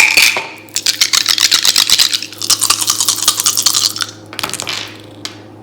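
Dice rattled and rolled during an astrology reading make a busy, loud clattering of rapid hard clicks for about four seconds, then a few scattered knocks as they settle.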